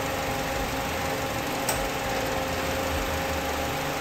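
A 2009 Honda Civic idling with its AC compressor running after a relay swap, a steady droning hum with a faint whine throughout and one brief tick, no talking.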